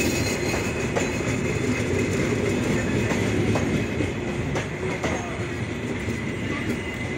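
A long Down Simanta Express train rolls past at Saidpur, a loud, steady rumble of wheels and carriages with rhythmic clickety-clack of rail joints and faint squeals, close and continuous throughout with no talk.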